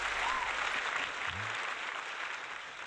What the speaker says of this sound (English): instead of just giving me an applause, it also claps me